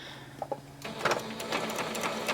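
A sewing machine runs a seam on a pillowcase dress in a quiet room. After a few faint clicks, it breaks into a steady, rapid stitching rattle.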